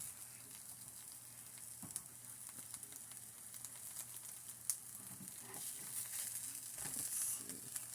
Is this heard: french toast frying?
yes